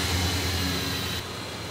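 A car with an automatic transmission runs after being started, a steady engine hum with a faint whine, close and fairly constant, easing slightly quieter toward the end.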